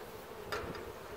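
Honey bees from a swarm housed in a hive give off a steady low buzzing hum, close and faint, with a slightly louder passing buzz midway.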